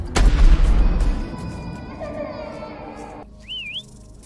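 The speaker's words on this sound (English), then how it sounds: "Should I shoot him with a cannon?" A cannon fires in the Black Cat DLC video game, opening with a loud boom that rumbles and fades over a couple of seconds, followed by a brief rising whistle-like tone near the end.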